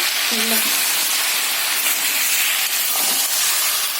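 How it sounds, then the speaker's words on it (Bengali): Mutton sautéing in mustard oil with Kashmiri chili powder gives a steady, close sizzle and hiss that runs without a break, with a couple of faint tonal clinks rising briefly above it. "আর এইটাকে একটু মাংসটা ভালো করে কষিয়ে নেবো।"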